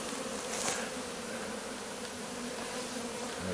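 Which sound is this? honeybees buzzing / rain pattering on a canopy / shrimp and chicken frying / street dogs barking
honeybees buzzing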